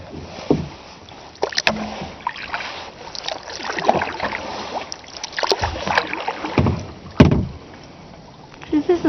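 Kayak paddle strokes dip and splash on a lake in an irregular rhythm, with a few sharper knocks and light wind noise between the watery swishes, close to the microphone and with no talking.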